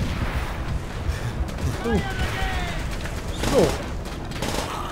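Gunfire in the World War II shooter Call of Duty: World at War, a steady wash of distant battle shots and rumble, with people talking over it in co-op play.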